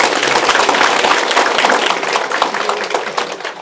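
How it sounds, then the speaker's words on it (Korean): Audience applause at a Buddhist dharma lecture on the Avatamsaka Sutra, a dense wash of many hands clapping steadily, loud and close, slowly thinning toward the end with no talk over it. "지금 박수는 좀 이따 쳐야죠."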